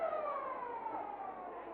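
An end-of-quarter siren at an Australian football match, a WAFL Colts game between West Perth and Perth, sounds as a single sustained, slightly falling tone, faint and distant under crowd ambience.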